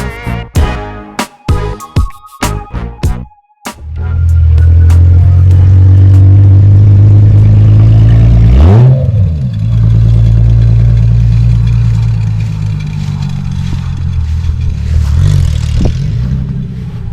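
A VW Cabrio with a swapped-in VR6 engine starts up after a few clicks and cranks, then idles loud and close. It revs once sharply and settles into a deep, steady rumble.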